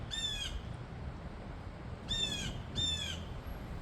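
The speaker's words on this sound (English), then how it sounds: "it sounds like a big bird" A big bird squawks from a tree outdoors, three harsh, raspy calls, one near the start and two later close together, moderately distant over a low steady background rumble.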